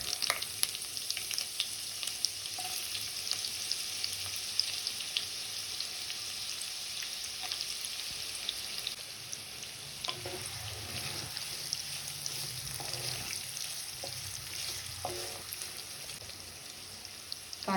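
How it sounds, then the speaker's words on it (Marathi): Onions sizzle and fry in hot oil in a wok (kadhai), a steady, close crackling hiss with occasional stirring scrapes, no voices. "तेलामध्ये आपण आता देणार आहोत कांद्याची फोडणी"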